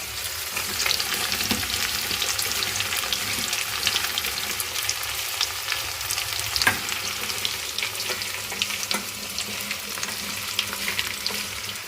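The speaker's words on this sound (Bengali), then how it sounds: "আর এমনি ভালো আছে, ওই জন্য ভাজার জন্য ওকে দিয়ে দিয়েছি" Bitter gourd slices fry in hot oil with a steady, dense sizzle, broken by occasional scrapes and clicks of stirring, close and continuous with no talking.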